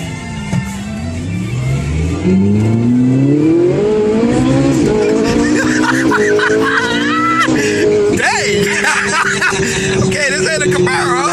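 A Ferrari 458 Italia engine revs hard and loud with rising and falling pitch sweeps, then settles into a steady cruising drone, with tire noise and people talking close by.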